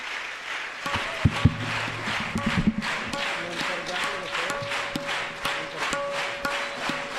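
An audience at a Hindu religious ceremony for Akshaya Tritiya claps in a steady rhythmic beat, moderately loud, with scattered crowd voices and a sustained tone under the claps.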